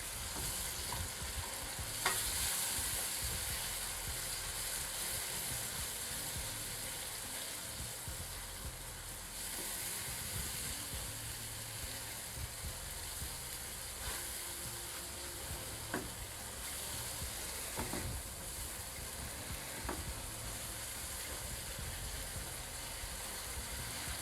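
Blended tomato paste is stirred into masala frying in a pan for a kaleji burger, with a steady close sizzle throughout and occasional spoon scrapes and taps over the hiss.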